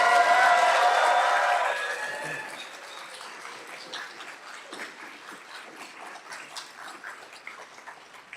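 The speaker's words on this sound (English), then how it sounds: "I want you to clap and cheer as loud as you can" A chemistry graduation audience claps and cheers loudly for about two seconds, then the noise fades into softer scattered clapping and crowd murmur that continues alone.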